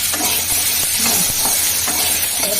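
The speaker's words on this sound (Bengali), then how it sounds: "ফোড়ন ভেজে আমড়াগুলো দিয়ে দিচ্ছি" Small young hog plums go into hot oil with fried whole spice tempering, giving a continuous bright sizzle with occasional stirring scrapes throughout.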